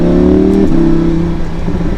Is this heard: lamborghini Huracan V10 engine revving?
yes